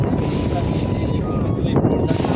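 River waves slap against a boat at Panch Nadi in the Sundarbans, a steady rough wash under gusting wind noise on the microphone, with a voice talking faintly over it.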